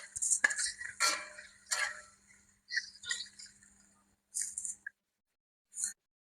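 A metal spoon stirring chicken wings and dried tofu in a cooking pot with a little water, giving intermittent scraping and clinking bursts with quiet gaps between them.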